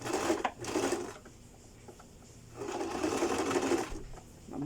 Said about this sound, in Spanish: A partir de ahí entonces vamos a coser a 1 centímetro